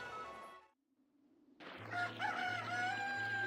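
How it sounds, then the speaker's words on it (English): A rooster crows in the video game Okami, a bright drawn-out cock-a-doodle-doo rising after a brief silence, loud and clear over a steady low game music drone. "Cock-a-doodle-doo!"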